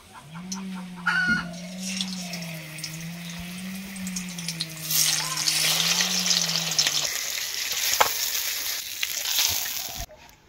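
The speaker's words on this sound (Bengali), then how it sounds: "তেলটা গরম হয়ে গেছে, এবার মাছ ভাজবো। তো ওই রোজের নিয়ম, আগে মুড়োগুলো ভেজে নেব।" Rohu fish heads fry in hot oil in a wok, a steady sizzle that swells louder and brighter partway through, with a wavering droning tone and faint fowl-like clucks underneath for the first several seconds.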